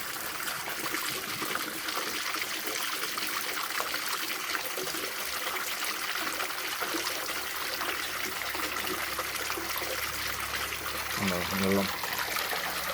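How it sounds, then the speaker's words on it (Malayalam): Murky backwash water drains steadily from a Jalamithra water filter, a continuous broadband rushing trickle heard up close throughout, with a brief low gurgling splash near the end. "കലക്കം വെള്ളം കലങ്ങിയ വെള്ളം പോകുന്നു."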